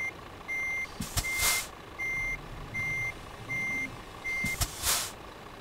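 A truck in Euro Truck Simulator 2 reverses with an evenly spaced string of electronic beeps, each followed by a short pause, while the engine idles underneath and a couple of sharp air-brake hisses cut in.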